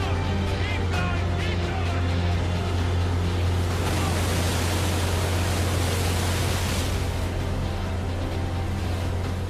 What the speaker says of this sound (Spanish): pero los mares aún estaban revueltos